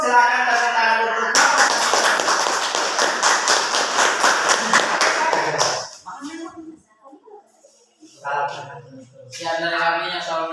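A classroom audience claps for a student group, a dense burst of about four seconds that fades out, and then students begin talking.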